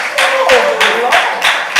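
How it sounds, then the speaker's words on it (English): An audience at a youth huddle claps for Patrice Perry, a national director, with loud dense applause and sharp individual claps filling the room, a voice briefly heard over it. "Let's clap that up in the building."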